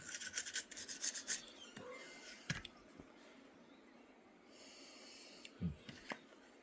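Firearm parts scrubbed with a cleaning brush, giving rough, rasping back-and-forth strokes in a steady rhythm that slow to occasional scrapes, close and fairly quiet.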